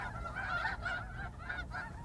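Geese honk at the Bosque del Apache wildlife refuge in New Mexico. The calls are faint and come in a quick overlapping flurry of nasal notes from a distance.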